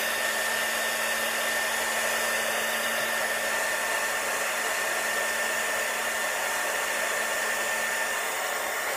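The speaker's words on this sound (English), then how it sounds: "this blow dryer I have is really good." A hair dryer blows continuously at a steady, even pitch, a constant whooshing hum with no talking.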